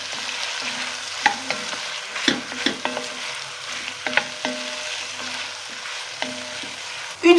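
Onions with a generous spoonful of turmeric fry in a pan, a steady sizzle broken by scattered scrapes and taps of a utensil against the pan, close and continuous, with no voices.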